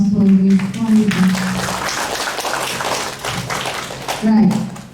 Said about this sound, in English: let's give one big applause for this wonderful